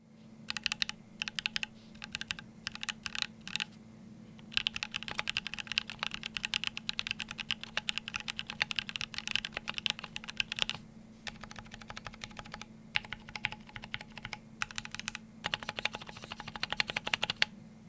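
Steady typing on a Keychron Q2 custom mechanical keyboard with ISO layout, a dense run of crisp close-up keystrokes in bursts with brief pauses, alone without voices.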